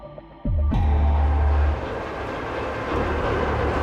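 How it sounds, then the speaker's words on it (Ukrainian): Train setting off late in the evening: a sudden loud rumble and low engine drone starts up, then settles into a steady, dense rolling noise, close and continuous. "Вже пізно ввечері ми сідаємо в потяг."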